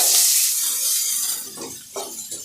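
Loud continuous sizzling of chilies frying in hot oil, with occasional stirring scrapes of a utensil in the pan.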